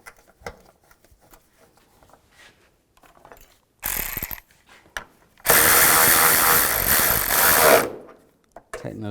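A ratchet tightens air box bolts on a 2010-2017 Chevy Equinox, with rapid clicking in two bursts: a short one, then a louder sustained run of about two seconds, with faint talk in the quieter gaps.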